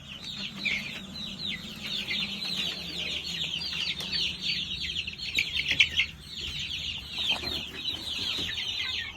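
A flock of month-old chickens clucks and chatters continuously, many overlapping calls close by, with a low rumble of background noise throughout.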